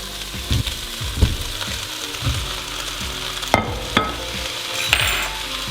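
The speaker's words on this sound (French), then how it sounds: "une fois que les oignons sont translucides, on peut réincorporer la viande" Lamb and onions fry together for a tajine, a close crackling sizzle broken by repeated scraping stirs and a few sharp utensil knocks against the pan.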